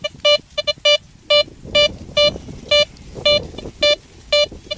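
A Blisstool metal detector's electronic beeps repeat in short, fairly regular bursts, some doubled, loud and close over faint background noise, in heavily trash-filled ground.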